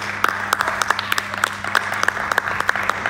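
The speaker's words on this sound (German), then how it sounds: "Ey, einmal Applaus." Short burst of applause from a small group at an outdoor stunt event where people jump a ramp with a lawnmower and a canoe, with steady clapping throughout and some voices.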